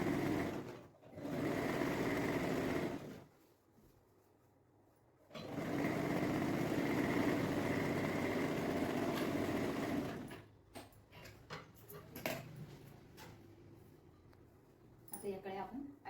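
A sewing machine stitching a frock runs in two steady whirring bursts of a few seconds each, close and fairly loud, separated by a quieter pause, with someone talking and some handling noises toward the end.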